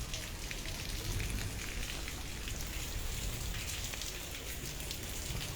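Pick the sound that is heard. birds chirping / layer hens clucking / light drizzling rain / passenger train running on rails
light drizzling rain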